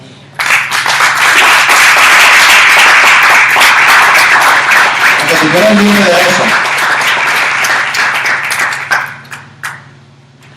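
A church congregation applauding during a Spanish-language discipleship teaching, loud sustained clapping that starts abruptly and tapers near the end, with someone briefly speaking over it.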